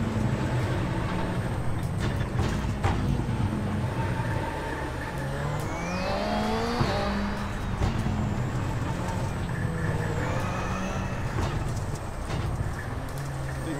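Rally cars racing in iRacing Rally X, engines revving and shifting with rising and falling pitch as they pass, over a steady rough gravel-like rumble.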